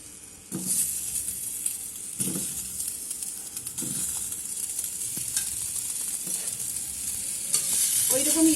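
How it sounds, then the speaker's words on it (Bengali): Vegetables fry and get stirred in a pan with very little oil for a fish curry, a steady sizzle broken by repeated scraping stir strokes, with no talking. "আমি এবারে বাকি আমার সবজিগুলো আমি সাইডে দিয়ে দিচ্ছি।"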